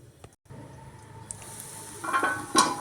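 Thanjavur orappu adai cooking on low flame in a covered appam pan, a soft steady sizzle with faint crackles that grows slightly louder toward the end, plus a brief metallic clink.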